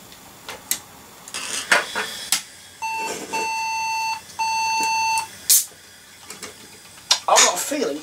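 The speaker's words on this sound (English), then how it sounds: "I've got a feeling that is a RAM error beep" A retro PC sounds its RAM error beep code: two long, steady, loud electronic beeps in sequence, with clicks and handling noise of the machine around them.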